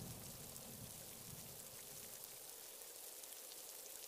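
Steady rain falls as a soft, continuous hiss of drops, fairly quiet and unbroken, with no voices over it.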